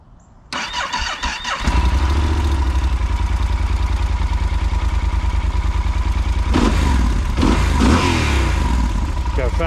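A Yamaha Super Tenere 1200 with its factory exhaust cranks and fires up, then settles into a loud, steady close-up idle with a couple of brief blips of throttle later on.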